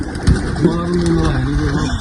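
Pigeons cooing inside a backyard pigeon loft: soft, low, rolling coos sustained through the clip, close by, with a voice talking over them.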